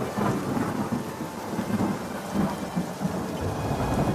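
Heavy rain pours steadily with rolling thunder rumbling underneath, a dense, constant downpour with no voices.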